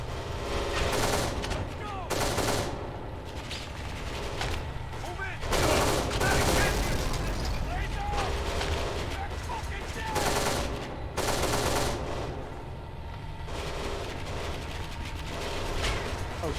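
Video game gunfire from Kane & Lynch 2: Dog Days rattles in bursts of automatic fire and single shots, with loud clusters recurring across the stretch amid mechanical clatter.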